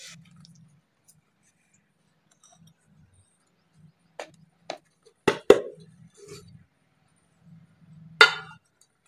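A knife run around the inside edge of a tin holding a freshly baked semolina (rava) cake: a few sparse metallic clinks and short scrapes separated by quiet pauses, nearby and fairly soft.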